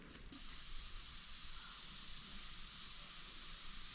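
Steady broadband hiss of steam venting from a pressure cooker, starting abruptly after a brief quiet moment and holding constant and fairly loud throughout, with no talking.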